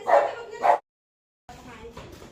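A couple of loud dog barks close by, then a pause followed by quieter, muffled background noise.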